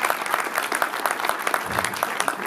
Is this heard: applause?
yes